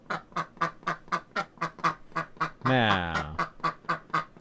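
Duck bunny creature from the Old School RuneScape Easter event quacking in a steady rhythmic series of short quacks, about three per second, with a voice speaking briefly over the middle.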